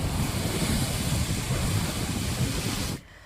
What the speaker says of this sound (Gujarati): 10 થી 12 ફૂટ ઊંચા મોજા ઉછળી રહ્યા છે